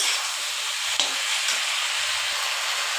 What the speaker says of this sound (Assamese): একদম ধুনীয়াকৈ মই ফ্ৰাই কৰি ল'লোঁ